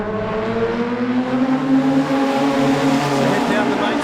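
Production sedans race side by side at Wahgunyah Speedway, engines droning steadily in a dense, continuous roar with shifting pitch as cars hold throttle together, a race commentator talking over the top.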